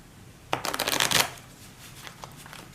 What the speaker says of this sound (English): So again, go ahead and shuffle.